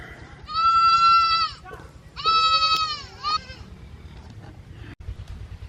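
Goats on a farm bleating nearby: two long wavering bleats and a shorter third, with a low background hum and faint voices.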